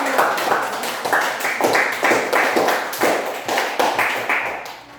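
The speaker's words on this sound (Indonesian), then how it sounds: "Tepuk tangan untuk kita." Children in a classroom clap their hands in a rhythmic, evenly spaced burst of sharp claps, loud and close, fading out at the end.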